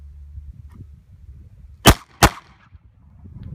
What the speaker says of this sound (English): Fire 2 rounds. Ready, fire.